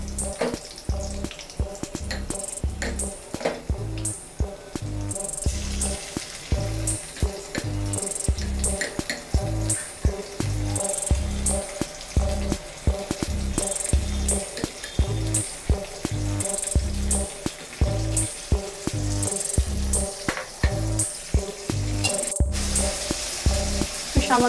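Ginger garlic paste sizzles and spits in hot oil in a pan, a loud continuous frying hiss with rhythmic bursts as it is stirred, no talking.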